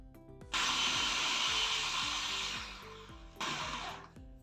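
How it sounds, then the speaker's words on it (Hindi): Electric chopper whirring through onion, garlic and carrot for a beef kabab mix, a loud steady motor buzz lasting about two seconds, then a pause and a shorter second burst, heard close up with no talking. "ये चीज़ें पहले मैं चॉप कर लूँगी।"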